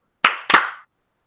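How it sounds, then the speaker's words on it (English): Podcast hosts clap to sync their recording: two sharp, close hand claps about a quarter second apart, then silence. "And we're clapping in 3, 2, 1."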